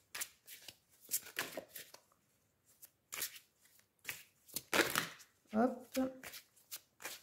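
Oracle cards of angels of love shuffled and drawn by hand, a series of crisp riffling and slapping bursts, close and fairly soft, broken by short pauses while someone speaks French between them.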